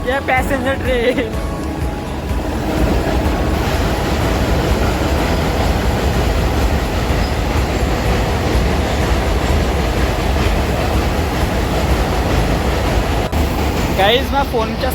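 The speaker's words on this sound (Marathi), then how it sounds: "Passenger train." A passenger train rumbles past at close range beside a monsoon waterfall, its wheels clattering in a loud, continuous roar that holds steady for the whole stretch.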